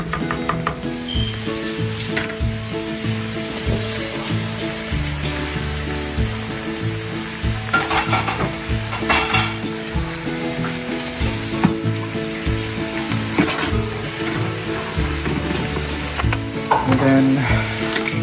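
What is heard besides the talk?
chicken adobo with soy sauce sizzling while being stirred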